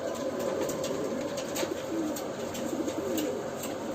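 Pigeons coo softly in a repeated low rhythm, with a faint chirp or two and light rustling around them, close by and with no talk.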